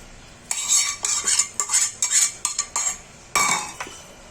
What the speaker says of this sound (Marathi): हे बघा हे असं हलवून घ्यायचं आहे असं हलवत राहायचं